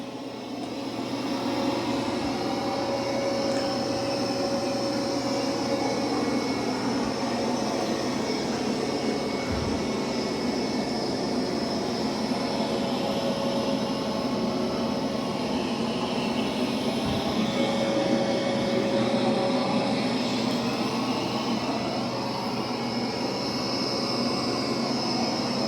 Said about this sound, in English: It's doing a really good job of vacuuming.